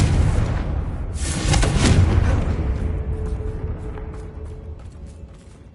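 A Confringo blasting curse in Hogwarts Legacy sets off a loud, rumbling boom that swells around the two-second mark, then decays into creaking, mechanical debris and faint clicks with no talk over it.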